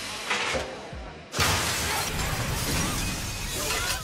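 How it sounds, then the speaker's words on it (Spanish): Glass shattering as a hanging billboard crashes into another billboard, then a sustained loud clatter of broken glass pieces falling like rain, dense and noisy throughout after a sudden onset. "Innumerables trozos de vidrio roto caen sobre el niño como una lluvia de cuchillos afilados"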